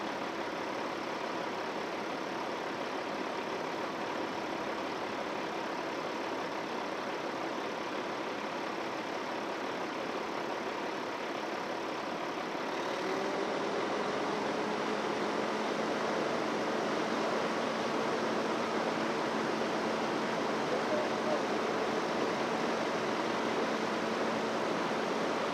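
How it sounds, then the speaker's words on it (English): A fire engine with a tank fill, recorded at a fire station, runs steadily; its engine note rises partway through as it revs up and holds a louder, continuous drone. "he's going to rev up and he's going to open up his tank fill."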